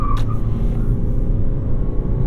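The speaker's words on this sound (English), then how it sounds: "Here we go, flat out." A 2021 Toyota Prius hybrid accelerating flat out from a stop, a loud, close, steady low engine and road rumble that holds even throughout with no talking over it.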